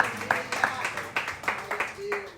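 A church congregation applauds during an evening service, scattered claps in loose rhythm with distinct individual hand strikes rather than a full roar, moderately close, with a few voices underneath.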